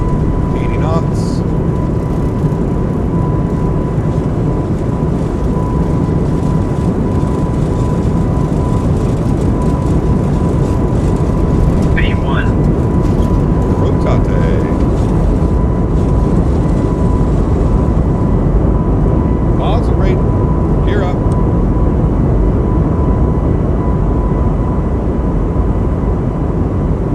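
Airbus A220 takeoff roll at takeoff power in a flight simulator: a loud, steady engine roar and rumble with a faint constant tone, a few light clicks scattered on top, no talk.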